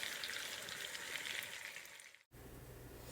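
Dominican-style meatballs sizzle and fry in a pan, a dense steady crackle that cuts off abruptly and resumes with a lower hiss.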